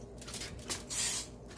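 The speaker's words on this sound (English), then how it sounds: "So I spray my shells with coconut oil." Coconut oil spray hisses onto blue corn taco shells in a few short, airy bursts, the longest near the end, each close and fairly soft.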